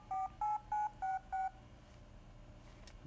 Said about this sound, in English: Hold the phone up to the speaker, and Newton would actually dial the phone.